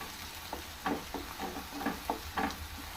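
Green chillies and onions frying in a pan, a quiet background sizzle punctuated by several short scraping stirs at irregular intervals, no talking, while cooking a chickpea curry.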